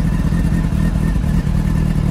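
A customized Honda CB600 Hornet cafe racer motorcycle idles after a warm start, a steady loud mid-pitched engine drone with a constant low throb and no talking.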